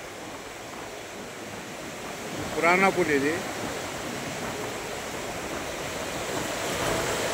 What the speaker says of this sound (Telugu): పురాణా పుల్ బ్రిడ్జ్ కింద భాగంలోకి వెళ్ళి నీళ్లు ఏ విధంగా ప్రవహిస్తున్నాయో